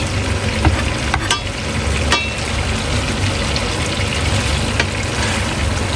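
A cod fillet sizzles steadily in a pan with lemon butter over medium heat, a constant close frying hiss with a few faint clicks and taps.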